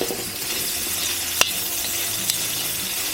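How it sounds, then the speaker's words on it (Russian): Carrot and onion fry in a kazan over raised heat with a bright, loud hiss. One sharp clink of utensil against the pot stands out, and no one speaks. "Кидаем морковку, лучок, добавляем огонька"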